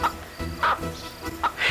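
A hen gives a few short, close clucks in quick succession, spaced unevenly over a brief moment with no voices.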